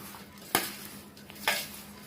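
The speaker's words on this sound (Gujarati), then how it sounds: "ફરી બધો મસાલો મિક્સ કરી લેશું" A spoon stirs a spice mix for Gujarati mango pickle, giving two distinct scraping knocks against the pot over faint background noise, close and quiet, with no voices.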